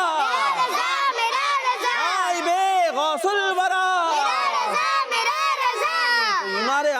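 Group of children chanting religious slogans together at an Islamic kids' event, loud rhythmic unison shouts with rising and falling calls repeated throughout, close and energetic.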